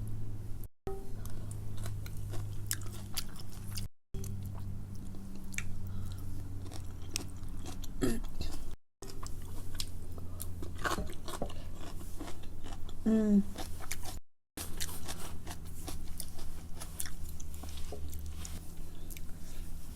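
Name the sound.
eating spicy chicken noodles and dumplings, chewing sounds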